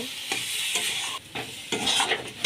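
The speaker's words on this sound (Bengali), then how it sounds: "এবার নেড়ে নামিয়ে দেব" A cauliflower, potato and paneer filling for patishapta is stirred in a hot pan, giving a steady close sizzle broken by repeated scraping strokes of the spoon, with no one talking.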